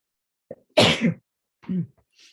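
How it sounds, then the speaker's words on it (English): A single sharp sneeze up close, preceded by a short intake of breath and followed by a brief sniff and murmur. "I'm going to sneeze just a second"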